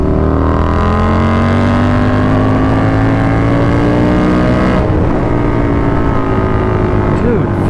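A KTM 1290 Super Duke R motorcycle accelerates hard through the gears, a loud, close engine roar that climbs steadily in pitch, breaks at a shift, then climbs again under strong wind noise.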